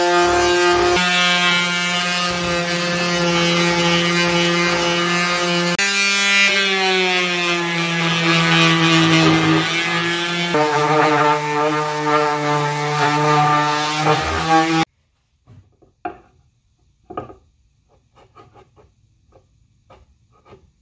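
A loud, steady power-sander whine with strong harmonics runs for about fifteen seconds while sanding wood, shifting pitch slightly, then cuts off, leaving faint scattered clicks and taps.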